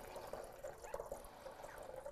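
Water trickles and splashes faintly and steadily into the reservoir of a Gaggia Classic Pro espresso machine, with small bubbling drips throughout.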